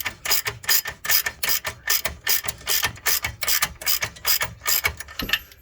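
Ratcheting wrench loosening a bolt on the rear upper camber arm of a Dodge Challenger, a fast, even series of close, sharp clicking strokes with no talk.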